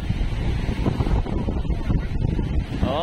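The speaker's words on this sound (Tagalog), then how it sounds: "Malakas na yung hangin. Yan, mahangin na." Strong gusty wind from an approaching typhoon roars and buffets the microphone continuously, with rumbling low noise and no voices.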